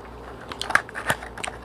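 Crisp crunches of teeth biting into a Jack and Jill chocolate pretzel stick, two or three sharp close bites over faint chewing in a quiet room.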